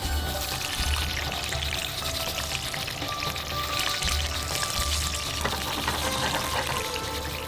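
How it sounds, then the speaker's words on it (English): Green chilies sizzling and frying in hot oil in a pan, a steady, close crackling hiss with no pause. "Now simply just add the green chilies to the oil and let it fry."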